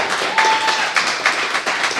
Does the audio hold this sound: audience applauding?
yes